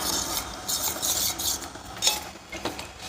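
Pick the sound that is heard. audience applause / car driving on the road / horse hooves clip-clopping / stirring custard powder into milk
stirring custard powder into milk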